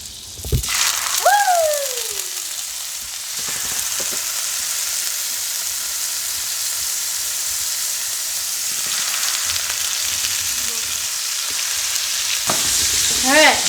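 Meat sizzles as it cooks in a pan, a loud, steady frying hiss heard up close, with a squeaky sliding sound near the start and a few clatters and knocks as pieces are handled, no talking.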